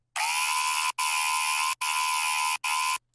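A high-pitched, distorted, stereo dubstep bass layer plays as four sustained buzzing, harsh notes separated by brief gaps, loud and dry with no other sounds.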